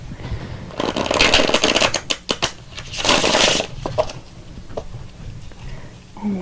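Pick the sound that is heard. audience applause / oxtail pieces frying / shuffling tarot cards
shuffling tarot cards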